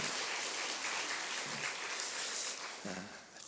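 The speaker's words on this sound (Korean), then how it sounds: "우리 박수로 한번 격려합시다." A church congregation applauds during a Sunday morning worship service in Daegu, a dense, steady wash of clapping from many hands that thins and fades toward the end.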